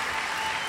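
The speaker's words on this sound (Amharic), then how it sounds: "አጨብጭቡለት በደንብ" Audience clapping at a youth gathering, a short dense burst of many hands applauding at once.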